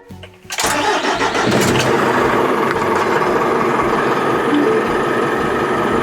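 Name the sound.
Hyundai Mighty 3.5-ton wing body truck engine starting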